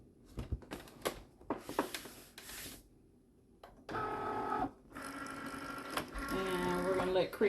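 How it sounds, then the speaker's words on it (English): A Cricut cutting machine works through material in irregular bursts of whirring and buzzing motor movements, with short pauses between passes and louder sustained stretches near the end; a person talks faintly at times. "we're gonna let Cricut cut this out for us"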